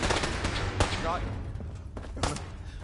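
Gunfire in Fallout 4: rapid automatic bursts and sharp individual shots crackle over a dense combat din, with a voice talking partway through.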